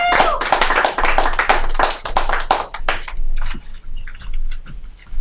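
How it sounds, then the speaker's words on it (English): Audience at a live comedy show claps for a comedian, a burst of dense applause in the first three seconds that thins into scattered claps and fades toward the end. "give him a round of applause."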